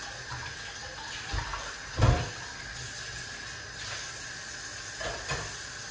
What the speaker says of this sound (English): we're gonna wash off the rest of fruits